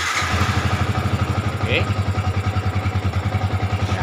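A Yamaha Vixion motorcycle engine catches on the electric starter and settles into a steady, rhythmic idle close by, with a brief spoken word at the start.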